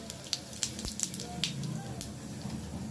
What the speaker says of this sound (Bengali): ওই তেলের মধ্যে আমি দিয়ে দিচ্ছি জিরে ফোড়ন